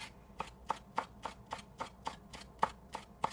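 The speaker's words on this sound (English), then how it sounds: "You can do this crossing chop." A knife chops basil leaves on a cutting board with a crossing motion, about ten evenly spaced crisp taps, close and fairly quiet, with no other sound.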